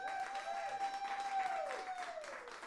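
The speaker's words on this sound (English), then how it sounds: "One more round of applause for yourselves." An audience claps after a live unplugged music performance at a studio, a steady patter of applause with a host's voice talking and whooping over it throughout.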